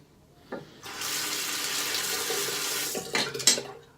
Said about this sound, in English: I'm gonna rinse